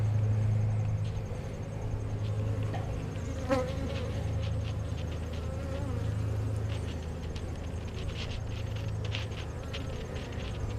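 Bees buzz steadily around an open beehive during a November hive inspection, a dense continuous drone of many insects close by, with no talk over it.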